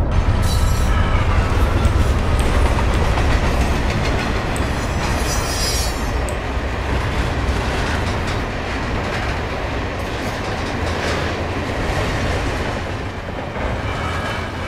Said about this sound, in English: So another freight train, class 70.